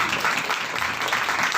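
A church congregation claps loudly during a New Year sermon, producing a continuous, fairly close wash of applause for the whole short stretch.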